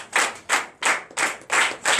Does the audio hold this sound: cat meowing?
no